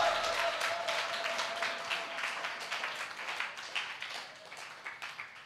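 A congregation claps hands in worship, rhythmic and steady at first and then thinning out, moderately close but quiet, with a faint sustained tone early on.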